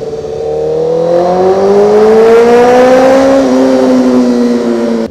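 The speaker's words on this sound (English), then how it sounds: "I haven't had a tunnel exhaust in about a half hour right now." A car exhaust revs loud and close inside a tunnel, the engine note climbing steadily in first gear with booming echo, then dipping slightly and holding before cutting off at the end.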